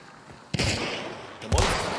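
Two sharp rifle shots from a Vetterli in the video game Hunt: Showdown, about a second apart, each a loud crack followed by a short rolling echo tail.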